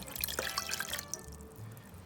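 A cup of water poured over halved apples, giving a brief splashing trickle with bright drips that lasts about a second before trailing off into quiet.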